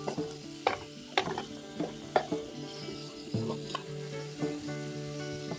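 Masala paste with turmeric and salt frying in a pan for butter paneer masala, with a steady low sizzle under rhythmic, close spatula scrapes and clicks.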